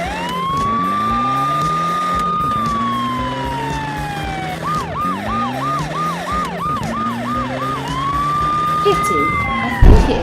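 Police car sirens in a monster truck cartoon, loud wailing tones sweeping up and down, breaking into a rapid yelp pattern midway, over rumbling vehicle noise and a brief knock near the end.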